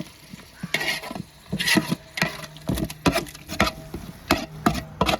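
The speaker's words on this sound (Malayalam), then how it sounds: "അതും കൂടി ഇതിൻ്റെ കൂടെ ഒഴിച്ചു കൊടുക്കാം ഇതൊന്ന് ഒന്ന് മാറാനായിട്ട് നല്ല വൃത്തിയായിട്ട് നമുക്ക് ഇളക്കി കൊടുക്കാം" Tomato paste being stirred into a kabsa pan, repeated close scraping and clattering strokes of a spoon against the pan over a soft frying sizzle, no voices.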